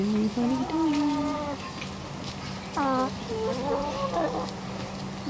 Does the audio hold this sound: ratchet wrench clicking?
no